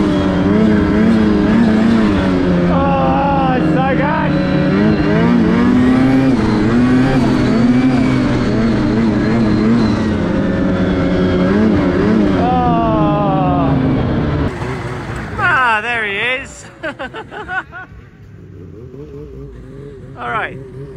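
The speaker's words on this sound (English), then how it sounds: "I'm going to head back and listen to the turbo." A 2024 Ski-Doo Summit X Expert Turbo snowmobile runs loud and close, its engine droning and rising in pitch under load for a long stretch, then dropping to a quieter idle with whining turbo sounds near the end.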